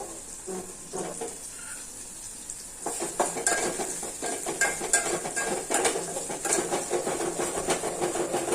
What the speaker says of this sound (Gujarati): ટમેટાને પણ આપણે થોડીક વાર ચડવા દેશું